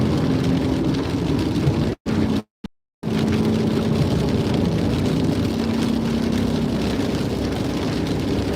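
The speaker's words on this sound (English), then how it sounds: "We got rain now." Steady broadband hiss of rain on a car moving along the interstate, with a constant low road rumble and a brief dropout of silence near the two-second mark before the wash of rain resumes.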